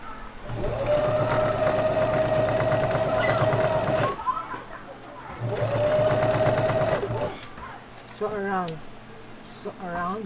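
A sewing machine stitching a tote bag made from old clothes, loud close mechanical whirring in two long bursts separated by a short pause, followed by brief rattles and quieter handling noises.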